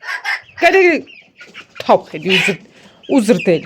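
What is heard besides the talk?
chickens clucking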